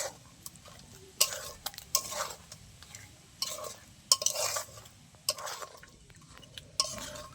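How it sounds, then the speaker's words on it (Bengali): Fried prawns, mustard paste and salt being stirred together in a pan, with bursts of spatula scraping and metal clinks over a soft sizzle, close, in irregular strokes and no speech. "এবার পরিমাণ মতো নুন সব একসাথে মিশিয়ে নেবো"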